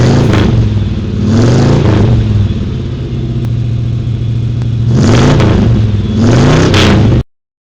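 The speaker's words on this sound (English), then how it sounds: "Let's rev it up for them classics!" Classic car engines rev repeatedly at close range during a road tour at the Amelia Concours d'Elegance, with loud throttle blips rising and falling around a steady idle before cutting off abruptly.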